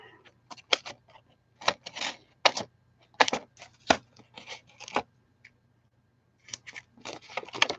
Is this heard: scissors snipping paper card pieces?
yes